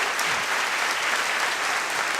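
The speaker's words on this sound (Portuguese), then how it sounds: "Se você está aplaudindo ao Senhor Jesus, Ele merece aplauso mais forte." A church congregation applauds during a Portuguese-language sermon, producing steady, dense clapping from many hands that fills the room at a constant level with no speech over it.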